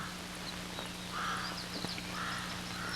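Rooks caw faintly in the distance, a few harsh calls scattered over a steady low background hum, like an engine idling nearby.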